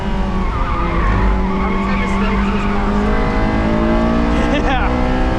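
A 2001 Honda S2000 at speed during a Grattan Raceway track day, heard from inside the car: a loud, steady engine drone with tires squealing and scrubbing through the corners.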